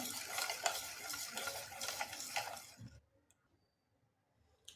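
A spoon stirs thick dhokla batter with baking soda in a bowl with wet, rhythmic scraping and occasional clicks, then stops abruptly into near silence.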